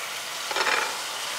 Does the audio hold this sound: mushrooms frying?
yes